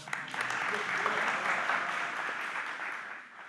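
Audience applause at an evening community conversation on flavored tobacco held by a council health and human services committee, a steady broadband patter of many hands lasting throughout, fairly soft and diffuse, fading slightly at the end.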